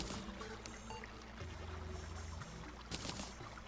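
Golden Shower spell in Terraria, a liquid pouring and splashing game effect, steady and fairly faint over a low tonal hum, with a brighter burst near the end.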